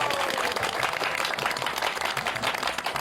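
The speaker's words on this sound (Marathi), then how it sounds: "वाजवा टाळ्या." Sustained applause from a neighbourhood gathering in a chawl planning its yearly Sankranti celebration, many hands clapping steadily and densely for the full stretch, loud and close with no break.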